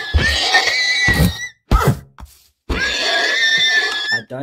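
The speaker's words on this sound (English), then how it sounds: "you want that horse there, that exact horse" A Minecraft horse neighs loudly in several separate whinnies with short pauses between them, each a bright, wavering call heard alone and close.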